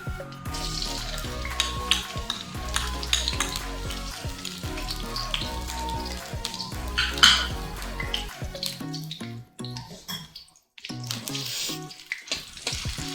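A tablespoon of garlic ginger paste frying in ghee over low heat, giving a steady close sizzle with crackles and the scrape of stirring throughout, and no one speaking.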